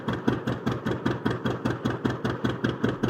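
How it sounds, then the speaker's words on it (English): A 1928 John Deere Model D two-cylinder tractor engine runs steadily with its distinctive pop-pop beat, an even series of close, loud exhaust thumps, about three to four per second. "The 1928 John Deere Model D is a classic two-cylinder tractor known for its durability and distinctive pop-pop engine sound."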